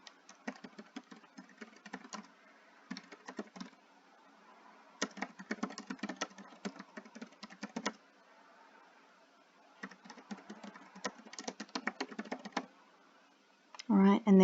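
Typing on a computer keyboard, bursts of quick clicking keystrokes separated by short pauses, fairly close and clear, with a voice starting right at the end.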